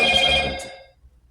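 A telephone rings in a quiet room, a bright electronic trill lasting under a second before fading out, with no talk over it.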